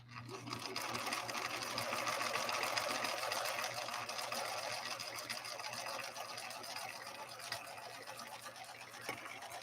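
A Viking Husqvarna 3230 sewing machine with a leather needle stitches a 3-point zigzag through six layers of 100% cotton, one continuous close whirring run lasting throughout.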